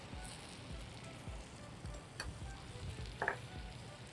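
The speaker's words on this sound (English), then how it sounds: "It's really sizzling," Chocolate sauce sizzles on a hot brownie pan topped with vanilla ice cream, giving a steady crackling hiss broken by small pulsing bursts, fairly faint and close.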